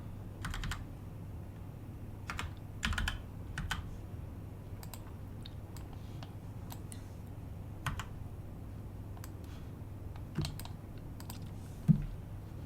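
Typing on a computer keyboard to enter a camera's IP address, user ID and password: scattered bursts of key clicks with pauses between them, close and fairly quiet, with no talking.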